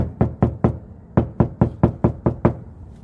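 Knuckles rap a custom door panel on a 1994 Toyota Camry: about eleven sharp, close knocks, first a quick trio, then a pause, then a steadier run of eight.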